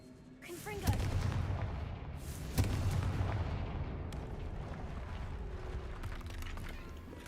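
Booming explosions from the Confringo spell in a Harry Potter video game, two heavy blasts near 1 and 2.6 seconds with a rumbling, crackling tail, and faint game voices under the noise.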